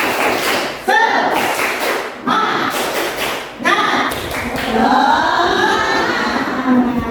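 A group claps a rhythmic spirit cheer during a teaching session, the claps coming in quick patterned bursts with short pauses, loud and close, with some voices mixed in.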